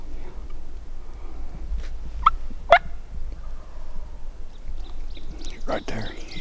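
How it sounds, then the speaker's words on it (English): A wild turkey gobbles from a roost in the Missouri spring woods, two sharp distant gobbles standing out over quiet ambience, with faint low talk near the end. "that bird's been gobbling on a roost"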